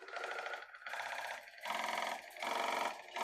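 A buzzing motorized whir pulses on and off in regular bursts, about four cycles, with short dips between, steady and close.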